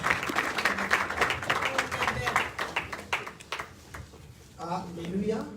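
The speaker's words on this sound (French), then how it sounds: "please applaud to honor the authority of the word of God" Congregation in a church hall at a religious wedding claps together, a dense steady patter that fades toward the end as a voice begins speaking over it.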